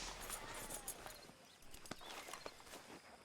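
Horse hooves clip-clop at a steady walking pace in the Red Dead Redemption 2 video game, the beats close and clear over a soft rustling game background.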